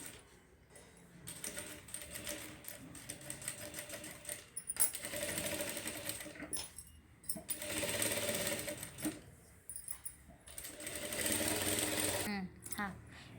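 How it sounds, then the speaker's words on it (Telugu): Sewing machine stitching the lining of a designer blouse, with several rapid rattling bursts of stitching separated by short pauses, close and fairly loud, while someone speaks in between. "ఇదే విధంగా మొత్తం కుట్టు వేసుకోవాలి."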